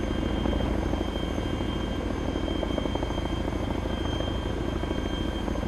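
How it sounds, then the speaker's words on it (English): A helicopter lifts off in a military-style mission game with a team aboard, its rotor pulsing in a loud, steady rhythmic chop with a constant engine drone throughout. "Red team, we are boarding the chopper."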